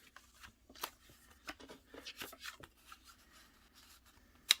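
Scissors cut a paper piece for a handmade artist trading card, giving a series of soft, crisp snips and rustles close by, irregular and quiet, with no talking.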